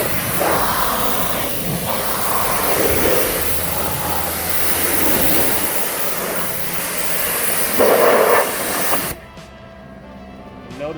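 A pressure washer sprays a car in a cross pattern, working from the bottom up, giving a loud continuous hissing rush with brief surges before it cuts off near the end.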